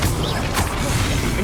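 Incendio fire spell cast in Hogwarts Legacy: a dense, roaring burst of flame over continuous rumbling noise, with a sharper flare about midway, close and fairly loud.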